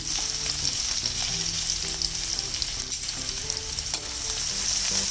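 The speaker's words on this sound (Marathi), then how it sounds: "पाव चमचा हिंग घालूया, जिरं चांगलं कडकडायला लागले यात घालायचे ठेचलेली लसूण" Crushed garlic, cumin seeds and asafoetida sautéing in hot oil for a radish leaf bhaji, a steady close crackling sizzle with light stirring scrapes throughout, no talking.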